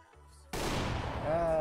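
A gunshot in the first-person shooter CS:GO cracks out abruptly after a quiet moment, and loud rolling noise sustains afterward with a faint tone rising near the end.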